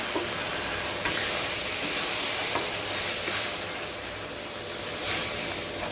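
Ground spice paste with chillies sizzling in a pan for potato and cauliflower curry, a steady hissing fry with a few sharp spatula clinks, close and continuous, no voices.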